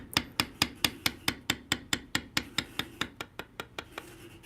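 Steady rhythmic tapping as a beveler is struck with a mallet along tooled leather for a knife sheath, about sixteen sharp close knocks at an even pace, slowing and softening at the end.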